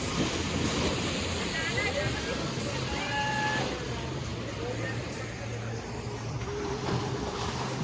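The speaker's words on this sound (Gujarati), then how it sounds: "આ મોજા જો." Ocean waves wash onto the shore at night at Dwarka, a steady roaring surge mixed with heavy wind buffeting the microphone and faint talk in the background.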